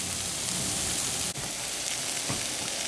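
Potatoes frying in a stone-coated skillet give off a steady, dense sizzle like light rain, continuous and close, broken by one brief dropout, with no voices.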